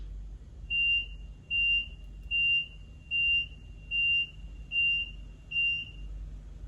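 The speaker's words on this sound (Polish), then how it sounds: "Should an incident be detected in your carriage, the following alarm will sound." A shuttle train carriage incident alarm beeps seven times in a steady rhythm, each tone about half a second long, over a low background hum.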